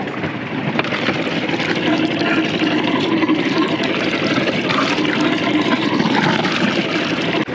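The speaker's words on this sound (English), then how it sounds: "generous flow of water coming out of the back of the boat" Engine cooling water gushing out of the stern of a 70-foot classic Fife yawl, a continuous loud splashing rush with a steady engine hum mixed underneath, no talk.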